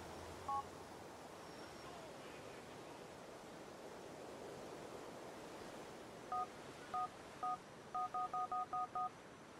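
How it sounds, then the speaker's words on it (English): Text message alert on a phone in the video game GTA IV: a short electronic beep early on, then a series of quick tonal beeps near the end, all over a steady hiss-like ambient background with no talk. "so that's a little text message"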